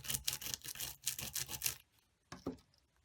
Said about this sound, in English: bring in our die brush and give it a little brushing, roll over it a few times